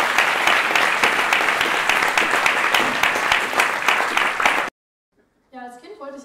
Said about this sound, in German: Applaus für die junge und sympathische Luzi Dietrich.